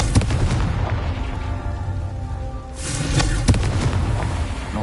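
Confringo explosive spell in the Hogwarts Legacy video game, heard as a string of loud booming blasts and sharp cracks over a rumbling roar, with a brief lull before another burst of impacts near the end.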